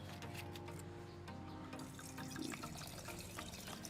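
White wine pours from a bottle into a pitcher, a steady liquid splash and gurgle lasting throughout under quiet background music.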